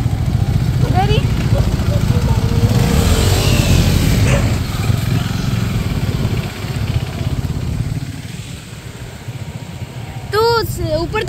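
A motorcycle engine idles and rumbles steadily up close in a parking spot at the start of a monsoon trek to Takmak Fort, Maharashtra, with people talking over it and a short high whistle-like sound near the end.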